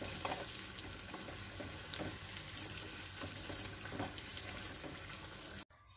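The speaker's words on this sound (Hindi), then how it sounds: "ऐसे ही हम सारी मिर्च फ्राई कर लेंगे।" Green chilli pakoras fry in hot oil with a soft, continuous bubbling sizzle and faint crackles, fairly quiet and close, cutting off abruptly near the end.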